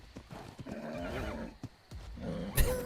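Modern Atlas-style horses in a farming video game give a loud whinny and a couple of neighs, with hooves clip-clopping around them and a sharp clatter near the end; nobody speaks.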